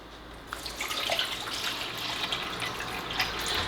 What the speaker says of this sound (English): So just to show you how fast this thing filters in this jug here